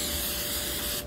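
A spray bottle gives one continuous, close, fairly loud hiss as it mists a dryer sheet for card making, cutting off sharply at the end with no voices.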